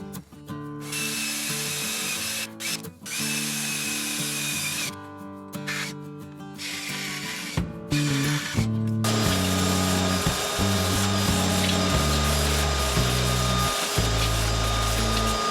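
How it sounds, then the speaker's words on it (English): Power drill driving 12mm screws into an old PVC toilet flange, heard as several bursts of motor whine with pauses between them, the drilling growing louder and steadier toward the end. "I'm just going to use a 12mm screw, and this will screw into the old PVC flange"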